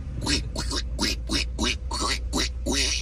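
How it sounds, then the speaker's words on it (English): A duck quacks repeatedly by a street, eight loud, close quacks in a steady rhythm over a constant low traffic rumble. "Oh, I see a duck."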